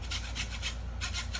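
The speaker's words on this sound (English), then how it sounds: "I'm using a coping saw to cut my dowel" A coping saw cuts a wooden dowel in quick, close rasping strokes, about five back-and-forth pulls in rapid rhythm with no talking.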